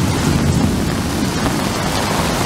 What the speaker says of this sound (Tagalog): Kumukulog pa.